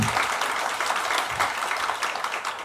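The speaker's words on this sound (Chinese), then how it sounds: "那大家鼓掌一下。" An audience at a political forum applauds as a speaker is introduced. Close, steady clapping from many hands runs without a break.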